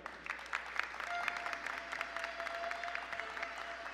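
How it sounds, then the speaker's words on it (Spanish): An audience at a regional oratory final in Coclé, Panama, gives a sustained round of applause. Many hands clap steadily at moderate distance, with a faint murmur of the crowd underneath. "Fuerte el aplauso."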